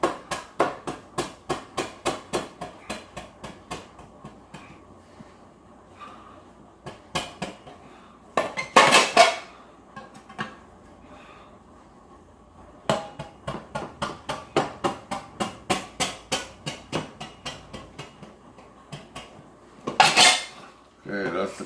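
A butcher knife cutting into the back of a metal can, heard as dense bursts of sharp metallic taps and scrapes in rapid rhythmic runs, with a few louder clanks and short pauses between runs.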